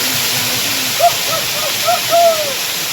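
Waterfall at Agasthiyarmalai falls in the forest, a loud constant roaring rush of falling water, with a few faint whistling calls over it.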